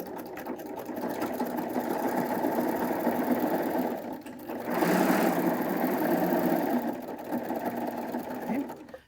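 A serger machine stitching along the edge of fabric, a fast steady mechanical whirring hum that runs close and continuous, easing briefly midway before picking back up to full speed.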